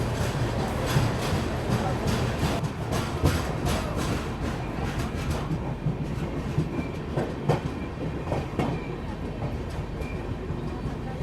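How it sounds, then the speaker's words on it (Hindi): An express train departs Satna Junction with steady, loud rolling rumble and rhythmic clickety-clack of wheels over rail joints throughout. "सतना जंक्शन पे भी ट्रेन का 5 मिनट का हॉल्ट था और डिपार्चर हो गया यहाँ से"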